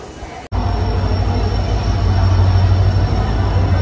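An Indian Railways train rolls into a station on a Kolkata to Mumbai route, its heavy low rumble starting suddenly and holding loud and steady throughout, with no talk over it.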